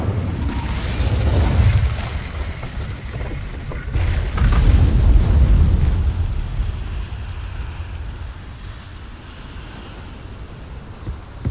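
Incendio and Confringo fire spells exploding in the Hogwarts Legacy game: two deep booming blasts a few seconds apart, each trailing into a rumbling, hissing wash that slowly fades.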